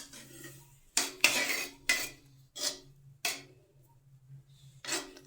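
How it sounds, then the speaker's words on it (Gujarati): A spoon stirs and mixes Kathiyawadi-style Gujarati potato curry in a pot, giving several short clinking, scraping bursts spaced about a second apart, with quiet pauses between and no talking. "હવે તેને હું હલાવીને મિક્સ કરી લઈશ"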